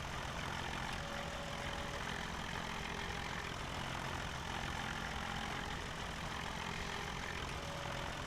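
A tractor engine runs at a steady, even drone in Farming Simulator 17, a continuous broadband hum at moderate level with no talking over it.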